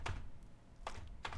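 Three quiet keystrokes on a computer keyboard, spaced out and faint over a low room hum.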